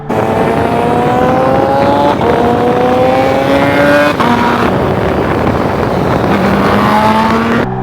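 Motorcycle fitted with a cheap aftermarket performance exhaust, revved repeatedly in loud, close bursts that climb in pitch, drop back and climb again, with no talking.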